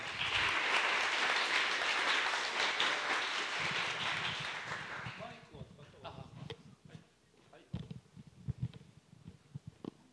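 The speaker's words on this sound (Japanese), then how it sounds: "拍手でお迎えください。" Audience applause welcoming a speaker at a conference talk, a dense, steady wash of clapping for about five seconds that fades out, followed by quiet room noise and a voice beginning to speak.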